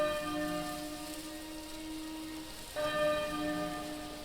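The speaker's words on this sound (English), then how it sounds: "There's the bell again." A church bell in the Octopath Traveler 2 video game rings with sustained, shimmering tones that hang and decay, then a fresh strike brightens it again partway through, clear and alone without talk.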